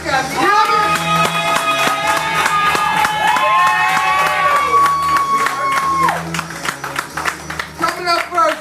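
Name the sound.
open mic audience clapping and cheering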